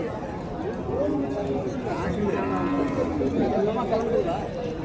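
Native breed cows and calves at an open livestock market in Matrapalli, with a continuous crowd murmur and people chatting over scattered animal sounds and general bustle.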